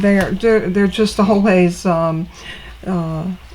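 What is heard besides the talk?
None of the usual background noises is heard.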